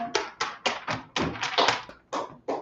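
Sharp individual claps ring out in a small Hebrew class as people clap for the Lord. About nine distinct claps come in an uneven rhythm, some paired, close by and moderately loud with quiet gaps between them.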